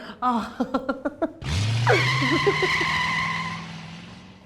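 A scooter pulls in with a sharp tire skid, a loud screech that settles into a long sustained squeal before fading, preceded by a few short rhythmic comic sounds.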